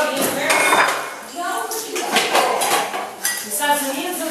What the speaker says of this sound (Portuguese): A mamãe tá lavando a louça.